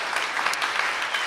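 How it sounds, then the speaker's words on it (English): A short burst of audience applause, many hands clapping together in a dense, steady patter. "Round of applause, everyone, for our great production team over here."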